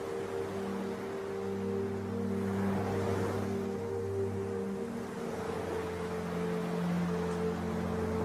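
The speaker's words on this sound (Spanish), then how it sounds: "junto al sonido suave y calmante de las olas en la playa" Gentle ocean waves wash over a beach in a soft, continuous hiss that swells slightly, with low steady tones humming underneath.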